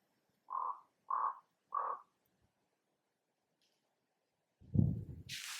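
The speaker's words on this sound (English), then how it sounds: "before we go in, I need to show you a crow." A crow gives three evenly spaced caws outdoors in a garden, clear and moderately near, followed after a pause by a louder broadband rustle or thump.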